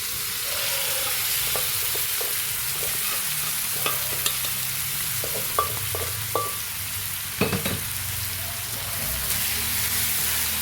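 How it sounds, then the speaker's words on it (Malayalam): Beef sizzles in a hot pan for Angamaly-style beef fry while a utensil stirs it, with a steady frying hiss broken by scattered clinks and scrapes. "അപ്പോൾ നമ്മുടെ ബീഫ് ഇട്ട് കൊടുക്കാം കേട്ടോ."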